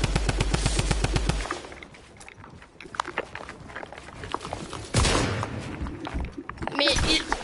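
Rifle gunfire in a video game, with a rapid burst of shots at the start followed by scattered single shots and footstep-like thumps, loud and close, with players talking over the action.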